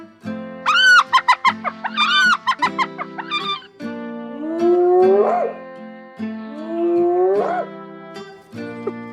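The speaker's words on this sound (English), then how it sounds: "Hyenas are very vocal animals and make sounds such as giggling," Hyenas call loudly and close by, first a run of rapid staccato giggling whoops, then long rising whooping howls with growly undertones, repeated twice.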